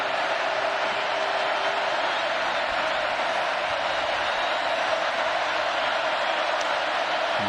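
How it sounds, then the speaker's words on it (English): Steady, dense roar of a packed college football stadium crowd at a Florida vs LSU game, sustained at full volume throughout with no break. "And the crowd roaring each time."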